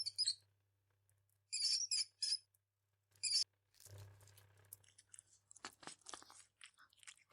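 Within a video game cutscene, a cat tears into a mouse, with wet crunching and chewing bursts that follow sharp, high mouse squeaks. A low hum runs beneath them, and the sound stays quiet and close, with no voices.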